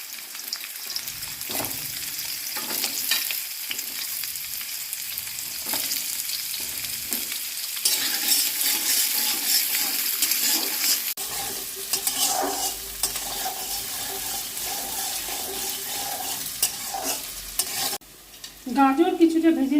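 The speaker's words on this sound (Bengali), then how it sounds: "আগে আমি গাজরটা ভেজে নেব, গাজর একটু শক্ত হয়।" Carrots fry in mustard oil for a vegetable dal, with a loud continuous sizzle and repeated spatula scrapes and stirs up close; the frying turns denser partway through before a brief clatter at the end, with nobody speaking.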